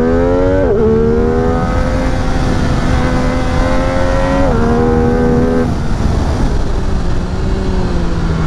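MV Agusta F3 800 RR motorcycle engine revving hard and close, its high whining note climbing, dropping with each gear change, then climbing again in a continuous loud run.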